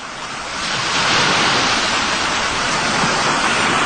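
Ocean waves on a beach, a broad hissing wash of surf that swells up after half a second and holds steady and loud, with a windy, noise-like roar and no voices.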